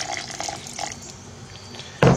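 Distilled water splashes briefly into a vinegar mixture near the end, a short loud gush after quieter background sounds.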